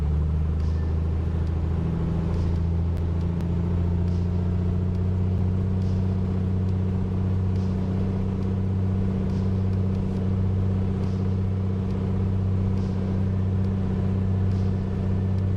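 A single-engine piston aircraft, the A2A Accu-Sim Comanche 250, holds a run-up at about 2,000 RPM in Microsoft Flight Simulator 2024. A steady, loud droning engine hum continues without change, with no voices over it.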